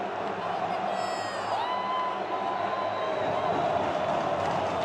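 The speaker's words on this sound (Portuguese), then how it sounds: "A imensa torcida vascaína canta na Arena da Amazônia." Vasco supporters singing in a huge stadium crowd at the Arena da Amazônia during a Carioca championship semifinal against Flamengo, a broad distant roar of chanting that continues throughout, under a commentator's voice.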